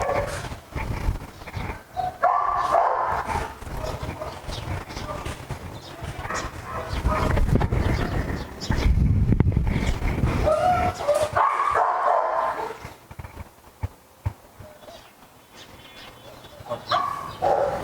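Rottweilers barking on a farm near the Giza pyramids area, loud repeated barks and yips in bursts over several seconds, mixed with voices and background commotion.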